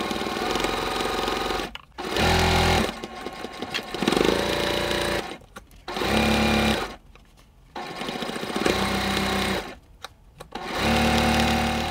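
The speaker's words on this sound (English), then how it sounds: "Now I'm going to sew with a quarter inch seam all the way down" Sewing machine joining quilt rows of selvage blocks with a quarter inch seam, running in several loud close bursts of fast steady stitching separated by short pauses.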